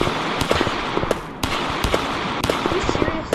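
Gunshots in the horror game Big Scary pop as sharp, scattered cracks at an irregular rhythm over a steady noisy background, with a voice talking alongside.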